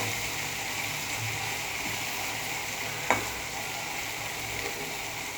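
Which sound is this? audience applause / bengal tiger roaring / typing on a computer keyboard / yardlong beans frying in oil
yardlong beans frying in oil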